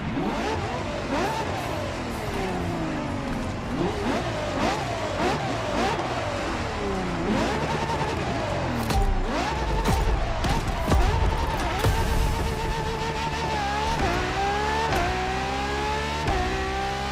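A Ferrari LaFerrari hybrid supercar in the video game The Crew Motorfest revs hard, its engine pitch repeatedly climbing and dropping through gear changes, loud and continuous for about seventeen seconds.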